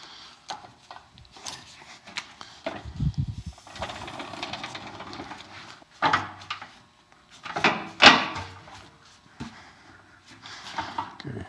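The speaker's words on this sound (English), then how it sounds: "just enough to pinch the sheet so I can roll it through" Sheet metal for a rear bumper diffuser fed through a hand roller with a soft radius die to form a flange, giving close mechanical squeaks, scrapes and rolling grinds in short bursts, with quiet gaps between.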